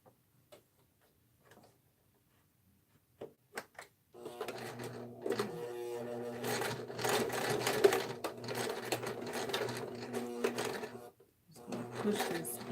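A sewing machine stitches fabric in quick rattling bursts after a few quiet taps and handling sounds, running steadily for several seconds, pausing briefly, then starting again near the end.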